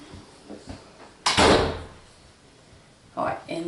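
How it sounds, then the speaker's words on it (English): A door is swung shut indoors with a loud whooshing thud, close by, followed by a fading rumble and another shorter knock, with faint household sounds around it. "Close the door back for Mommy."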